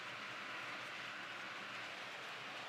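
A small model train runs steadily, its motor hum and wheel noise forming a constant even rush with no voices.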